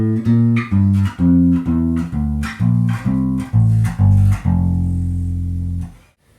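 Bass guitar running an advanced scale exercise across the strings, about a dozen plucked notes in an even rhythm ending on a long ringing note that fades, played alone.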